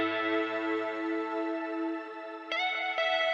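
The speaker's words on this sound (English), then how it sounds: "using the reverb with that shimmer button engaged, which essentially adds a reverb but an octave higher" Electric guitar chords ring out through chorus, shimmer reverb adding an octave-higher wash, and delay, a sustained shimmering tone that decays before two fresh picked chords strike near the end.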